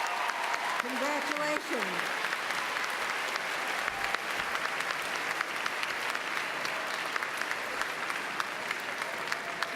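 A crowd at a graduation commencement ceremony applauds loudly and steadily the whole way through, a dense wash of clapping with cheers mixed in. A voice speaks briefly near the start.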